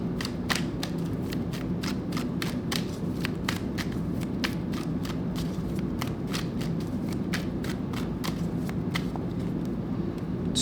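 Tarot cards are shuffled continuously close by, a quiet run of quick riffling flicks and soft slaps in an even rhythm with no voices.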